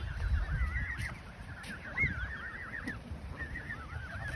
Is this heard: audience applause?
no